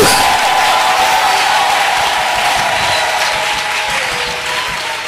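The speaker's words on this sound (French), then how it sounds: "Acclame très fort pour la gloire de Dieu." A congregation at a Sunday church service applauds loudly for the glory of God. The clapping is dense, continuous and close, holding steady for several seconds before easing off slightly at the end.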